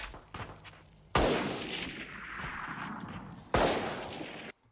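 Classic pistol fire in Valorant: two loud, sharp gunshots about two seconds apart, each with a long ringing tail, over softer game ambience and some earlier muffled pops.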